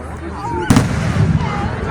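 Fireworks burst at an outdoor town fireworks show in Booneville, one sharp loud boom followed by crackling rumble, with crowd chatter and voices heard throughout.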